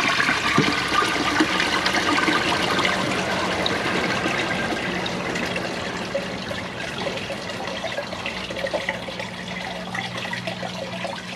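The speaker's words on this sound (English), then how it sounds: "But it's a pretty interesting toilet. Dry bowl test." A 1997 Vitromex Marathon slim tank toilet flushes with a dry bowl, a loud rushing swirl of water that settles into steady trickling refill noise, close by with no voices.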